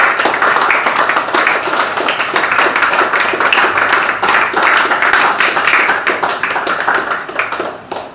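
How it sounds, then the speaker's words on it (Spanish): A church congregation claps loudly and steadily during a worship service, a close, dense, continuous patter of many hands lasting several seconds before tapering slightly. "Den un aplauso al Señor, hermano"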